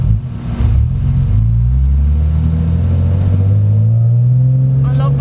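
A 1998 BMW M Roadster (E36/7) with a Drift cat-back exhaust runs close by, its engine note rumbling and then climbing steadily in pitch as it revs and accelerates.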